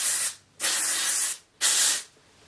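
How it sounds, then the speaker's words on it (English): Hair spray is sprayed onto natural hair in a pineapple updo: three close, loud hissing bursts with brief pauses between them and no talk. "And then, for the last time, spray a little more."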